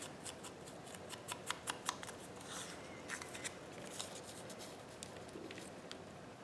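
Scissors snip through yellow paper in a journal, a string of quick, close, crisp cuts coming in small bursts, quiet and with no one talking.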